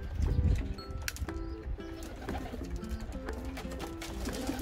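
Pigeons in a breeding loft scuffle and coo, with repeated low cooing calls and rustling close by over steady background noise.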